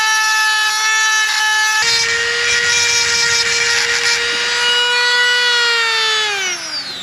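An abrasive bit in a rotary tool grinds a Ninja ZX-6R motorcycle chain pin flat, a loud continuous high-pitched whine with a rising screech that winds down at the end.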